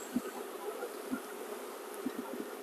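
Honeybees in a small hive with a double screen bottom board, just smoked, make a continuous buzzing hum close by, with faint knocks and handling sounds scattered throughout.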